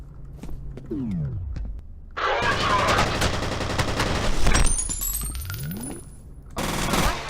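Bursts of automatic gunfire in the first-person shooter F.E.A.R., loud and close, with rapid rattling volleys, scattered single shots and mechanical clatter.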